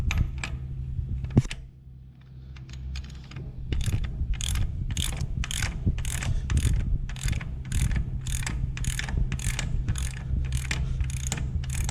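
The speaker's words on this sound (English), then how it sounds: "Now that it's broken loose, put it on my ratchet." Ratchet turning a motorcycle oil drain bolt: close, rapid, regular clicking, one pass at a time, with a few slower clicks at first and then a fast even rhythm.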